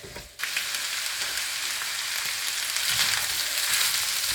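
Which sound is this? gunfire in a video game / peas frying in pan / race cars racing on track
peas frying in pan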